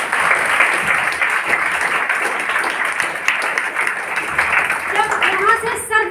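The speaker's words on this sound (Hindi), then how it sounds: "जोरदार तालियां हो जाए" Loud applause from an audience at a motivational gathering, a dense wash of clapping that carries on steadily, with voices talking over it near the end.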